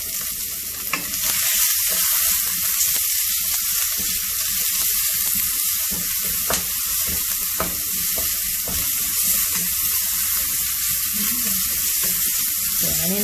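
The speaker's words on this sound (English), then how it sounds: "we have heated up some oil in a hot pan. Right now we're going to add in onions." Onions frying in hot oil in a hot pan for spicy Thai basil tofu, a steady loud sizzle with occasional stirring scrapes running through the whole stretch, and no voices over it.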